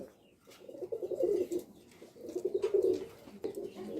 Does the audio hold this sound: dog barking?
no